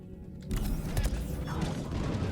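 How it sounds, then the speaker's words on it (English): An explosion from the Shockwave biotic power in Mass Effect Legendary Edition bursts in after a brief quiet moment, then rolls on as a loud, sustained broadband rumble with crashing debris for about two seconds. "Let's see what Shockwave does. Oh, it caused an explosion"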